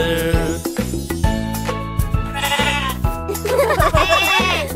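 Sheep bleating in a Hindi nursery rhyme for kids, set to a bright musical backing with a repeating tune, the bleats layered over the melody throughout.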